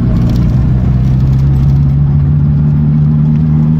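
A ZAZ Zaporozhets car with lowered gearing and LuAZ axles drives slowly in third gear, its engine humming loudly and steadily close by, with faint clatter and no talk.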